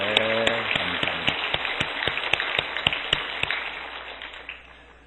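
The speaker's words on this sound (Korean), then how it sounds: "뜨겁게 격려 박수 한번 더 하겠습니다" A church congregation claps in warm, encouraging applause, with dense, rain-like patter and sharper individual claps that fade out gradually over five seconds. A voice is heard briefly at the start.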